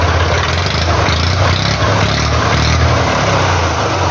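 A Massey Ferguson 135 tractor engine runs loudly and steadily at close range, a constant low rumble with a dense mechanical roar and no pauses.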